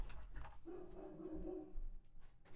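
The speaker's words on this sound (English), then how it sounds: "why is he barking?" A dog barks somewhere in the background of a room, giving a couple of faint, short barks and then a longer sustained whining tone, while other household sounds carry on.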